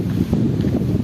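Strong gusty wind from a sudden storm roars and buffets the microphone in a brief, loud, low rumble.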